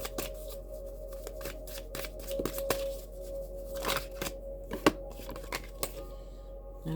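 Tarot cards are shuffled by hand in a quiet room, giving a run of crisp, uneven riffling snaps and soft slides that go on for several seconds, close and fairly faint, with no talk.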